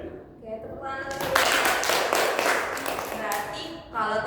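A small group in a counseling session bursts into brief applause, a dense patter of claps lasting a couple of seconds, with voices talking just before and after.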